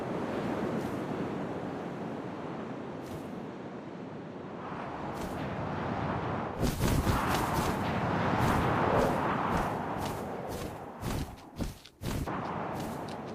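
Steady wind in the video game What Remains of Edith Finch, a broad continuous rush that swells midway, with sharp gusty bursts and crackles toward the end, no voices.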